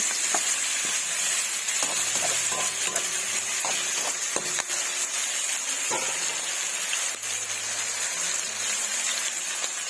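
Chicken liver and vegetables fry in a pan with a steady, close sizzle throughout, broken by occasional clinks and scrapes of a utensil against the pan.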